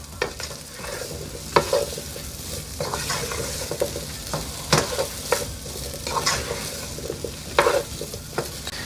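Boiled potatoes are stirred into sausage in a skillet, with a continuous sizzle and regular scraping spoon strokes, close and fairly loud.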